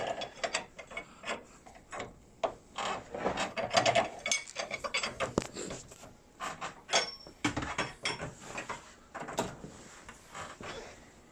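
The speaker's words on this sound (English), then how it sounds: "Oh, we should use a ratchet." A ratchet turning a bolt on a repair job, giving bursts of fast, light clicking in uneven runs with short pauses and a few metallic knocks, close up and moderately quiet.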